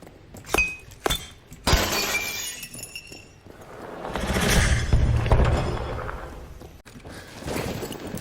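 Lights shattering under gunfire in Battlefield 1: a string of sharp glass breaks and clinks, a few quick ones early followed by a bigger crash and a swelling rumble of debris, loud and with no voices over it.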